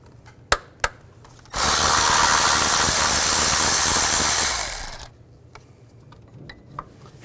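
A 10mm socket on a ratchet backs out a bolt on a Nissan Xterra during an ignition coil replacement. A couple of sharp clicks come first, then a loud, steady, close whirring burst lasts about three and a half seconds before it stops.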